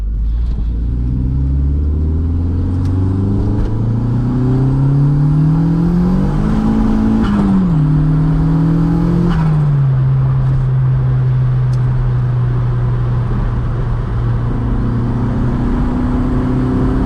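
A car accelerates hard while its ECU rev limit is tested, and the engine drone climbs steadily in pitch, loud and close. The revs break off with a quick shift, rise again, then settle into a steady cruising hum with no talking.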